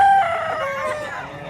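A gamefowl stag crows once, loud and close, at a Lipa City auction market, the call trailing off over a murmur of background noise.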